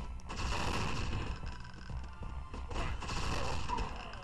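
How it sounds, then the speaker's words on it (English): Gunshots from the Plazma Burst video game come in dense, loud bursts of rapid fire that blend into a continuous clatter of weapon effects. "we can just shoot him."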